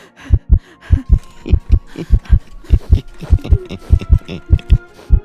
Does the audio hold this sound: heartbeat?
yes